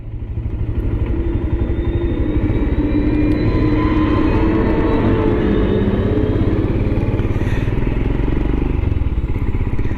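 A Royal Enfield Himalayan motorcycle ridden along a rural track, its engine a steady loud drone close by with a rising tone, continuous throughout and no talk.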